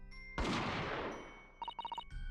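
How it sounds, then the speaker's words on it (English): A single loud gunshot from The Great Ace Attorney: Resolve cracks and decays with a long reverberant tail, followed by a few short bright chime-like game tones. "a gunshot rang out from over his shoulder."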